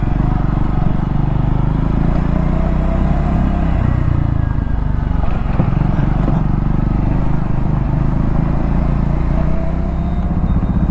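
A Triumph Scrambler 400X single-cylinder motorcycle rumbles through city streets, a loud, close, steady low engine drone with wind buffeting, holding a constant pace without sharp revs.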